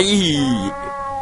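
Cat meowing after being fed fish in the video game Ib, a single drawn-out meow followed by a shorter tonal trailing cry, close and clear.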